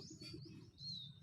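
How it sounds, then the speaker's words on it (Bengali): Birds call in the early morning: a brief burst of faint, high chirps with some soft lower murmur beneath, heard from a distance. "পাখির ডাক।"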